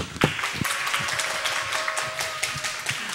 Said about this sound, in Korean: 박수로 우리 선교사님 환영합니다